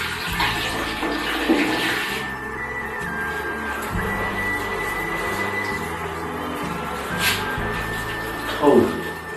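Steady running water pours while a stray puppy is bathed for the first time, a constant close rushing hiss with a few louder splashes and voices in the background.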